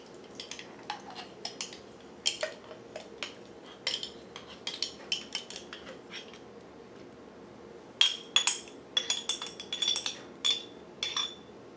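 A knife scrapes and clinks against a slow cooker pot while food is mixed, producing scattered metallic taps and scrapes in irregular bursts, with a few sharper ringing clinks near the end.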